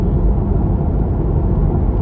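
A Tesla Model 3 accelerating hard against its power limiter gives a steady, heavy low rumble with road and wind roar, continuous and close, no voices over it.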